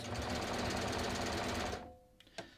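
Sewing machine stitching a neckline facing runs in a fast steady mechanical chatter for nearly two seconds, then stops, followed by a couple of small clicks.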